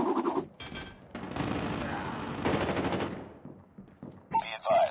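Automatic sentry gun fire in Call of Duty Mobile's Halloween undead mode, dense rapid bursts with ragged gaps, loud and close, mixed with other game clatter.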